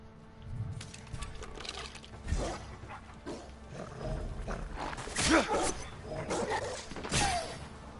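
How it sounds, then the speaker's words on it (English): Dog barking in the video game Ghost of Tsushima, several short barks scattered across the stretch over a busy mix of game sounds and faint rumbles, moderately loud. "How'd that dog not die?"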